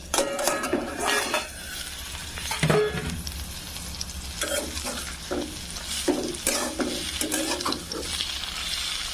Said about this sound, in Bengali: ভালোভাবে নেড়ে দিব।